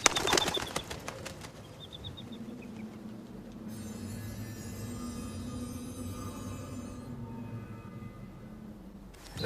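A bird flaps its wings in flight, the soft rapid fluttering beating steadily for several seconds at moderate loudness over a low rumbling backdrop, with a few brief high chirps near the start.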